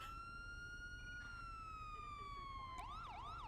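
An emergency vehicle siren in GTA NoPixel holds a long steady tone, then switches to a rapid rising-and-falling wail near the end, loud and close with no talk over it.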